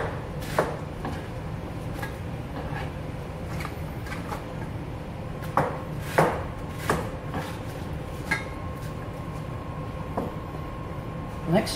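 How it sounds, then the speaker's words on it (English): Knife cutting Chinese cabbage on a board, scattered sharp chops and thuds at irregular intervals, some louder near the middle, over a low room hum. "Just we need to cut this one half, then lengthwise, take this size, okay?"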